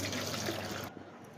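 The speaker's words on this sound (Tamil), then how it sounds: "மோர் தண்ணியில் ஊற வச்ச சுண்டைக்காயை நம்ம வடிகட்டி எடுத்துக்கலாம்." Turkey berries soaked in buttermilk water are strained, a steady close splash and pour of liquid that stops abruptly near the end, leaving a quiet drip.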